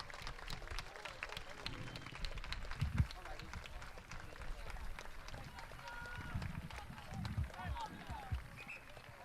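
A football crowd at a Euro Cup finals-stage match applauds as a player leaves the field, with scattered clapping spread across the stands beneath a commentator's voice.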